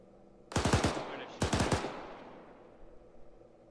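Two loud bursts of rapid automatic gunfire in a video game, coming from a tower window, each a fast string of cracks with echoing tails that trail off into faint distant shots.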